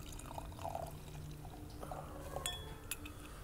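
Dark German beer pours into a glass, a soft liquid trickle with faint fizzing and a few light glass clinks, quiet and close without speech.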